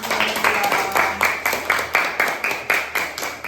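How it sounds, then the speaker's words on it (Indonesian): Rhythmic group applause in an Islamic education classroom session after a presentation: a steady series of sharp, evenly spaced claps, close and fairly loud, repeating about three times per second with no voices over it. "Iya, tepuk tangan"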